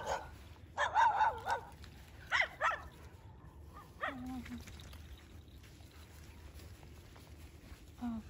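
A pack of rough feral dogs barks in several short bursts outdoors, some yips and a whimper, moderately near over steady ambient noise with faint voices.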